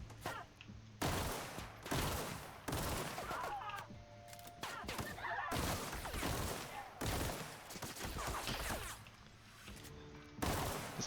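Repeated gunfire in the sci-fi role-playing shooter The Outer Worlds, a rapid string of sharp loud shots in bursts with brief gaps between them, close and dominant, with game ambience underneath.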